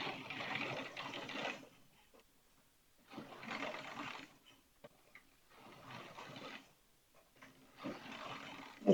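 A plaiting device on a knitting machine runs in four bursts of mechanical clatter, each about two seconds long with short pauses between them, fairly close and fairly faint, with no voices.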